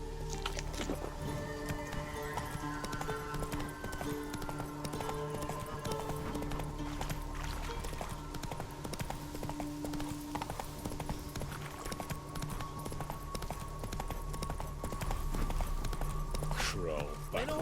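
Roach, the horse in The Witcher 3, gallops with a steady, rhythmic clip-clop of hooves lasting throughout, alongside game music and someone talking over it.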